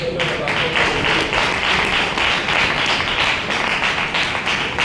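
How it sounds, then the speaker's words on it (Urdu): Congregation at a Palm Sunday church service claps together, a dense continuous wash of many hands applauding at steady loudness for several seconds without a clear break. "ذرا تالیاں بجائیں"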